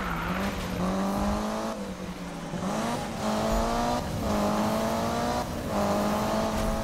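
Mitsubishi Lancer Evo drifting in Need for Speed 2015, engine droning and revving in repeated rising surges with tire squeal throughout, loud and continuous, with a brief exclamation from a voice.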